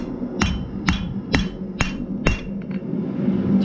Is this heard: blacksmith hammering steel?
yes